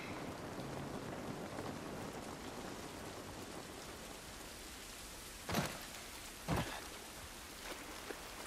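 Steady, dense rain pours outdoors in the video game The Last of Us Part 1, a continuous hiss with two sharp bursts of impact or thunder near the end.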